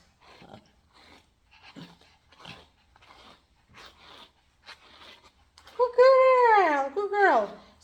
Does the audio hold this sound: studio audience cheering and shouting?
no